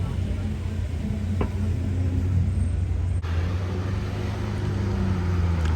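A Porsche 911 GT3 RS runs nearby on a city street, its engine a steady low rumbling drone with a faint higher whine over background traffic noise.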